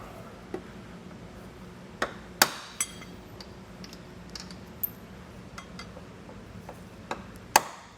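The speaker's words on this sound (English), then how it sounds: "we'll just give them a tap with a hammer to loosen them up" Several sharp metallic taps of a hammer on hex nuts at irregular intervals, fairly close, during a trailer hitch install on a 2018 Tesla, over a low steady background hum with no talking.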